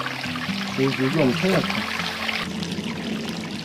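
A shallow creek flows and trickles steadily at a Korean streamside where marsh snails are gathered. Faint voices or musical tones drift over the water for the first half.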